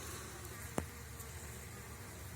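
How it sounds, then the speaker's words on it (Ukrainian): Bees at an apiary hum in a soft, steady drone with one sharp click partway through, faint and continuous. "Гляньте, які активні бджоли."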